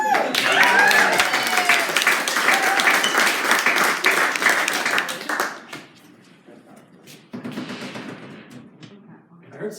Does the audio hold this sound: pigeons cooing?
no